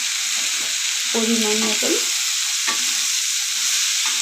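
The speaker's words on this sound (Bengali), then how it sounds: "এবার চাল ডাল ভালো করে আমি ভেজে নেব। আর হলুদ দিয়ে দিলাম" Rice and lentils with turmeric fry and get stirred in a pan, giving a close steady sizzle with scraping strokes, while someone speaks briefly over it.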